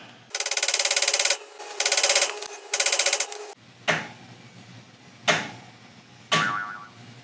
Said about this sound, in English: So I'm going to try to do a little tappy tap tap and see if we can get a purchase on it that way.